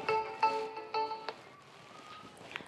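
A phone rings indoors, sounding as a few short electronic tone bursts that repeat in a rhythm, moderately loud and with no talk over them.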